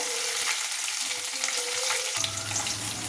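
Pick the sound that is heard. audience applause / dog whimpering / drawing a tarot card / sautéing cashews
sautéing cashews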